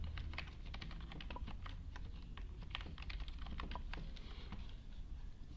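Steady, rapid clicking of keys as text is typed on a computer keyboard in graphic design software, close and continuous with no talking.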